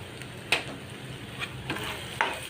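A spiced tomato paste with turmeric and cumin sizzles steadily in hot oil for a crab curry, with a few sharp scraping stirs of the spoon over the frying.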